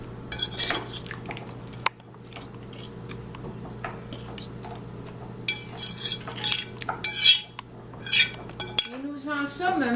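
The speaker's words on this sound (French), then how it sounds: "On mélange le tout." Ceviche ingredients being mixed in a bowl, with repeated clinks and scrapes of a utensil against dishware at close range, plus a short burst of voice near the end.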